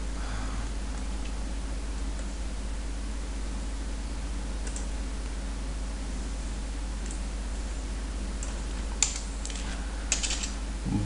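Typing on a computer keyboard while entering Tamil text in Photoshop, a soft steady stream of light key clicks under a constant hum, with a few sharper taps near the end.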